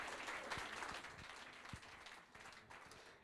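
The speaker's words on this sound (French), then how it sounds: "On vous raccompagne avec des applaudissements." Steady audience applause at a French awards ceremony, a dense crowd clapping continuously and fairly evenly at moderate volume, with no talk over it.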